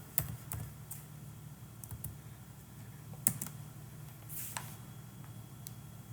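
Keys tapped on a computer keyboard while entering a search query into Google, a quiet scatter of soft clicks in short bursts over a low steady hum, with no talking.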